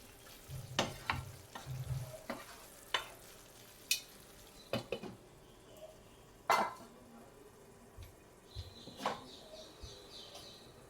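Paneer bhurji cooks in a pan with stirring clinks and spoon scrapes, a series of sharp utensil taps over a low steady sizzle, with faint bird chirps in the background.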